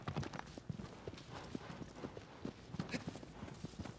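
Agro the horse trots along in Shadow of the Colossus, hooves clip-clopping in a steady, quick rhythm, fairly soft and close with a light ambient backdrop.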